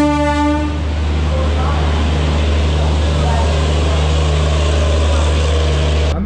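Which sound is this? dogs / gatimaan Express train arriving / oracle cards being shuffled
gatimaan Express train arriving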